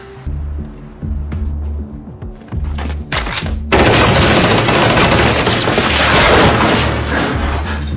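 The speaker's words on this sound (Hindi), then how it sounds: "आदमी पागलपन की तरह गोलियां बरसाता रहा" Heavy machine-gun fire erupts in a gunfight scene from a gangster film, starting with scattered shots and clatter, then a sudden loud, sustained burst of rapid automatic fire that roars on without pause.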